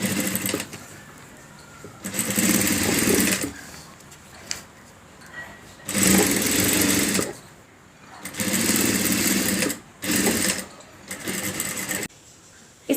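A sewing machine stitches gelatin fabric onto a zipper chain for a makeup box, running in loud close bursts of whirring separated by short pauses.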